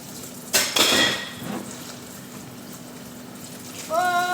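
Dishes being washed under a running tap: a steady wash of flowing water with clattering plates and cutlery knocking together, a brief clank near the start and a ringing tone at the end.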